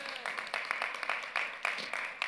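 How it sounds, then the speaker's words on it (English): Congregation clapping during a Resurrection Sunday church service, a moderate patter of applause with rhythmic bursts, fairly faint, running under the preacher's continuing voice. "Good place to clap."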